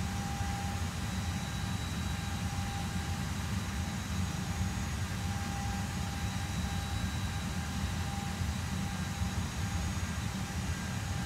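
An Airbus A320 engine starting in the X-Plane 11 flight simulator, with a steady, unbroken roar and whine heard close and loud, along with thin high tones and no talking.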